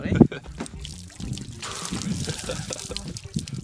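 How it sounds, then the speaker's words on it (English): Fresh water poured over a person after floating in a salty pool in Siwa, Egypt, trickling and splashing steadily up close, with a sharp splash at the start and a voice speaking over the pour. "you have to dump fresh water on yourself after, or else it gets crusty"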